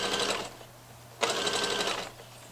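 A domestic sewing machine stitches a sleeve onto a sweatshirt in two close bursts of fast, even whirring with a short pause between them.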